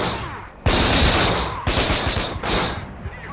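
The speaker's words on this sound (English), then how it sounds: "I shot him in the head, dude, come on, why is he still shooting at me?" Bursts of gunfire from the PS2 game Rabbithunt, with loud rapid shots breaking in at intervals and rattling on like a fusillade, heard alone without voices.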